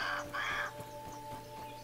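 A raven in the video game Grounded gives two harsh, loud caws close together, followed by quieter game ambience with a steady hum.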